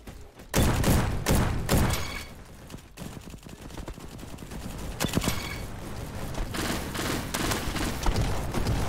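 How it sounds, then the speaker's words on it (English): Shotgun gunfire in a video game: heavy booming blasts spaced a second or so apart, loud and close, followed by a busier stretch of overlapping shots and impacts. "It's a shotgun."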